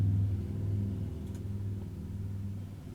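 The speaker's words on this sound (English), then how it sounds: "Oh, I hear a motorcycle." A motorcycle engine rumbles low and steady as it goes by, a droning hum that fades slightly toward the end, heard alone without voices.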